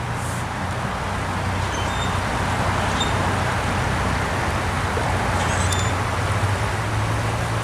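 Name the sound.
cars passing on a nearby road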